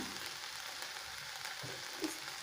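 Spices fry steadily in a pan with ivy gourd (tondekai) for a masala curry, a faint, even sizzle with a soft stir near the end and no talking.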